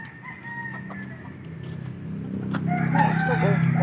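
A hen clucks after laying an egg, repeated agitated clucks and cackles close by that grow louder toward the end, with people talking in the background.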